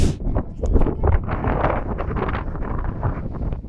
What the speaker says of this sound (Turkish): Şimdi burası aşırı rüzgarlı.